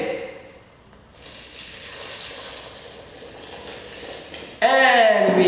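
Water poured into flour for matzah dough, a steady broadband splashing rush that starts faint and swells, ending in a louder burst of bright clattering and scraping at the close.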